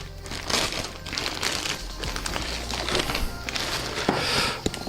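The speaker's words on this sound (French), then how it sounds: "On va quand même le déballer, on va essayer de pas l'abîmer" A Wootbox subscription box package being unwrapped up close, continuous crinkling and rustling of packaging with crumpling bursts and a few knocks, no speech.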